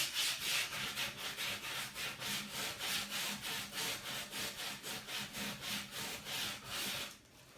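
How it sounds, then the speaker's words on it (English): A wooden Christmas sign is sanded by hand in long, even strokes, a soft, close rhythmic scraping repeating about three times a second for several seconds before stopping, with no talking. "I'll show you at the end how much sanding off that I did throughout the whole thing"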